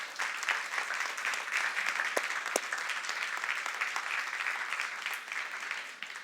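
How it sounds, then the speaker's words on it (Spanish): Church congregation applauding the Lord during a worship service, a steady wash of many hands clapping at moderate distance, sustained and even for the whole stretch with no talk over it. "¿Cuántos se atreven a dar un aplauso al Señor?"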